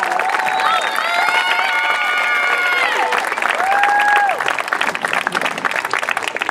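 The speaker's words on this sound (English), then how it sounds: "Please give our students a round of applause." A high school graduation crowd applauds and cheers loudly and steadily, with whoops and whistles rising above the dense clapping.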